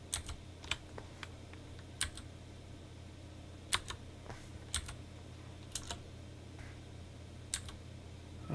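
Scattered keystrokes tap on a computer keyboard in short irregular bursts with pauses, close and fairly quiet over a steady low hum.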